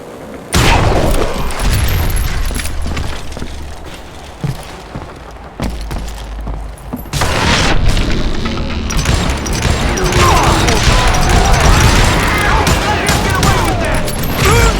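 Gunfire and crashing impacts fill a Western shootout in Call of Juarez: Gunslinger as a rope is shot to drop a footbridge, loud bursts and smashes layered over music and voices, with a short quieter stretch midway.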